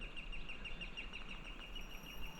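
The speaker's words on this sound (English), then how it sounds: "Can you hear the birds?" Faint, repeated high chirps of birds singing in the distance by a lake in the Sweden–Norway border region, steady throughout over a low outdoor background hum.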